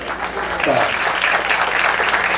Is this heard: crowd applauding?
yes